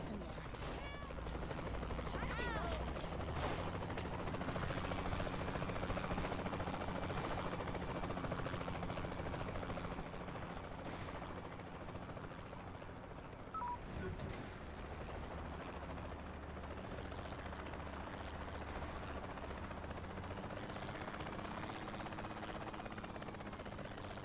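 A helicopter in the video game Saints Row 3 gives a steady, loud rotor drone under game sounds and gunfire, with a brief break near the middle before it carries on.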